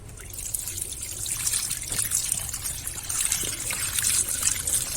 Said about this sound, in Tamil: பருப்போட வேக வைக்கும்போது நல்லா அலசிக்கணும்.